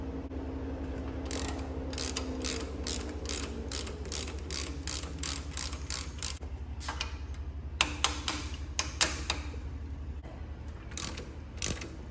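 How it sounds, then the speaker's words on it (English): A ratchet wrench loosens the rocker stud and nut on the Springer front leg of a 1998 Harley-Davidson Softail, with rapid bursts of clicking ratchet strokes in quick series, then sparser clicks, close and clear. "I'm going to go ahead and pull this rocker stud and nut out"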